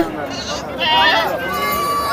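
Goats bleat several times in quick, wavering calls, close by, with a murmur of people in the background at the Gudur livestock market.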